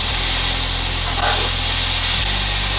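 Veggies and meatballs sizzle steadily in a hot pan, a dense continuous hiss running unbroken for a few seconds alongside a low electrical hum, with no voices.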